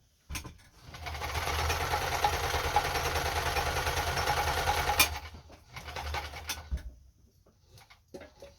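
A Kenmore 10 Stitch sewing machine runs a steady stretch of straight stitching, a fast even mechanical whir and clatter that stops abruptly, followed by a few shorter bursts and clicks.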